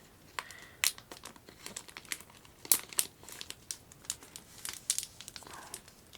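Graded ARS trading card slab being slid into a thin crinkly plastic OPP sleeve, a close, quiet run of irregular crinkling and rustling with sharper crackles scattered throughout and no talking.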